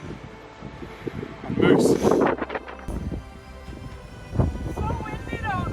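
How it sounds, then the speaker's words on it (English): Gusty wind buffets the microphone outdoors in the Swedish mountains, rising in loud rumbling surges while people talk over it. "The wind has really picked up."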